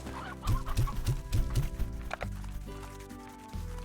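Chickens in the video game Slime Rancher cluck in a rapid series of five or six sharp bursts, then quieter clucks and a low game music drone continue underneath, fairly close and loud.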